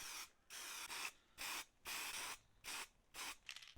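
Triumph TR7 car parts being spray painted in a series of six short, even bursts, each about half a second long with brief pauses between, close and hissing with no talking.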